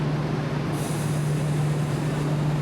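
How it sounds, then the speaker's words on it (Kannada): Train standing at a station in Japan while passengers wait to board for the beach, a steady low mechanical hum with a constant tonal drone, no talk. "ನಾವಿವಾಗ ಈ ಟ್ರೈನ್ ಹತ್ಕೊಂಡು ರಾಮಪ್ಪ ಬೀಚ್ ಕಡೆ ಹೋಗ್ತೀವಿ"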